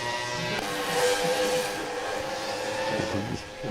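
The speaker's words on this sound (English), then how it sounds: "Utes sounding like Formula 1 cars," Ute race cars lap Phillip Island circuit, a loud continuous high-revving engine roar with a rising whine as a car passes close by, swelling and fading slightly near the end.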